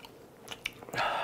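Someone eats spicy tteokbokki and a hot dog at close range, with a few soft, wet bites and chews in quick succession and no talking.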